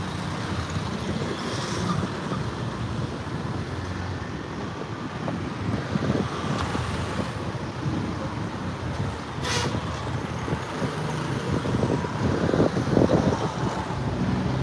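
Wind buffets a microphone outdoors in Phnom Penh, a constant rough roar that runs throughout with occasional louder gusts and no clear speech.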